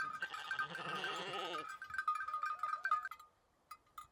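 Sheep and lambs bleat on a Norwegian farm, several overlapping calls at close range up front, then shorter, fainter bleats trailing off into quiet.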